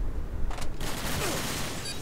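Gunfire in the shooter video game Modern Warfare 2, a dense burst of rapid shots and crackling fire lasting about two seconds, loud and close.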